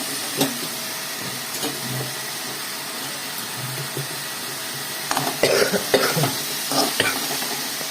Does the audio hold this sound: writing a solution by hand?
no